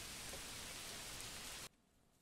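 Heavy rain pours in a medieval city-building game, a dense, even hiss that stops abruptly after under two seconds.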